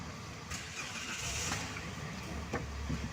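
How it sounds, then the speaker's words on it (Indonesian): A Daihatsu Xenia engine, set up as an air-conditioning trainer, is started in neutral with the handbrake on: a brief cranking whir catches into a steady low idle, fairly faint, with no talk. "Kemudian mesin saya hidupkan."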